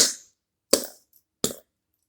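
Three sharp, separate whacks against cardboard, evenly spaced about three-quarters of a second apart, each a crisp close slap that dies away quickly into silence.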